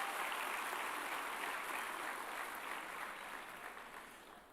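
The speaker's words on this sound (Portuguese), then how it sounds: "A igreja pode dar uma salva de palmas a essas pessoas." A church congregation at a Sunday family service applauds first-time visitors, a dense even wash of clapping from many hands that holds steady and then begins to taper toward the end, with no voices.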